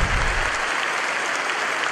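Applause for the church of Santiago at a Bible study gathering, a dense wash of clapping that fills the space evenly for the whole stretch without voices on top.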